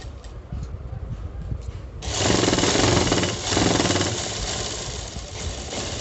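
Electric sewing machine stitching a seam on palazzo trousers starts up after a soft lead-in, then runs steadily with a loud, fast mechanical chatter that carries on to the end.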